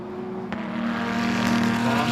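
GT race car at full throttle on the run toward the final turn at Sebring, a steady loud engine note holding and building in pitch over a couple of seconds, with a brief click near the start.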